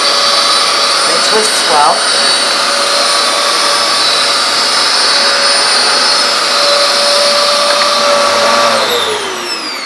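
A vacuum cleaner runs in normal mode across carpet, giving a loud, steady whine and roar that holds through the clip, then drops in pitch near the end. A brief spoken remark sits over the motor.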